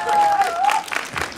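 Audience applause at an outdoor elders' celebration and township sports day in Jinju, a brief burst of crowd clapping with a sustained voice running over it.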